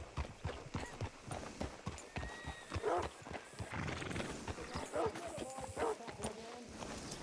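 A horse in Red Dead Redemption 2 clip-clops along with steady hoofbeats and lets out whinnies and snorts, heard up close under game voices speaking.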